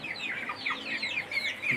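A brief burst of chickens clucking close by, several overlapping calls in quick succession from local free-range hens.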